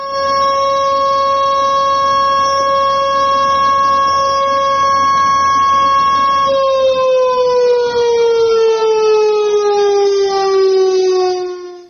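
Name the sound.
civil defense siren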